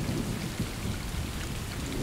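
Heavy rain pouring steadily with rumbling thunder in the video game Stray, a dense, continuous downpour with a low roll underneath and no voices.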